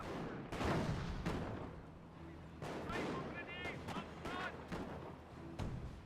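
Artillery barrage from M2 guns or 25-pounders in the video game Company of Heroes, with repeated booming impacts and gunfire bursts spread through the clip, plus some chirping effects between the blasts.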